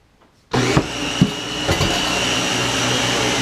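Kitchen blender starting up abruptly after brief quiet to pulse fresh tomato sauce until smooth, a loud steady whirring motor with a few bumps as the contents shift, running continuously without talk.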